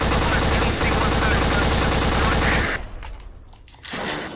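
Rapid automatic gunfire in the video game Black, a loud, dense fusillade of rattling shots that cuts off sharply partway through, leaving a brief quieter gap before more noise returns.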